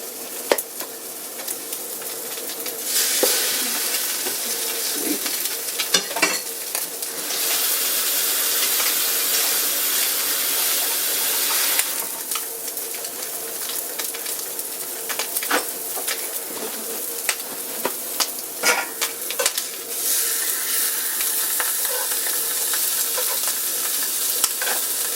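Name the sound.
bread frying in a cast iron pan for a Monte Cristo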